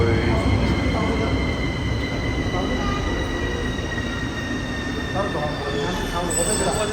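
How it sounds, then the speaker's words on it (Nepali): A train arriving at a station in Bucharest, Romania, rumbles steadily nearby with long drawn metallic wheel squeals and tonal whines, while people chat faintly in the background. "हामी आउनु ट्रेन पनि आउनु राम्रो"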